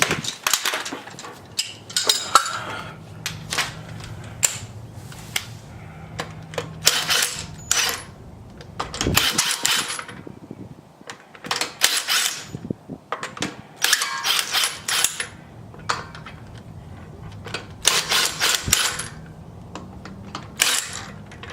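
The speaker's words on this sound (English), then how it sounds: "So let me just get this wheel taken off" A wheel being taken off a VW Touareg fitted with coilovers: scattered ratcheting clicks and sharp metallic clinks of tools and bolts, coming in irregular bursts with quiet gaps over about twenty seconds.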